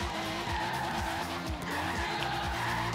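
A car drifts in Forza Horizon 3 during a drift race, its tires squealing in a continuous loud screech over the revving engine, with the pitch rising and falling through the slide.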